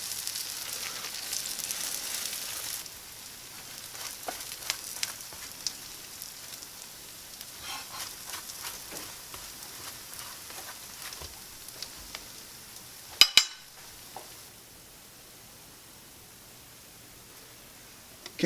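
A burrito fries in butter in a pan, giving off a steady, fairly quiet sizzle with a hissing wash, a few small pops and one short sharp clatter near the end.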